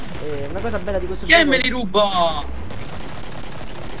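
Gunshots ring out in the zombie-shooting video game Killing Floor, sharp bursts of fire mixed with game noise beneath someone talking over them.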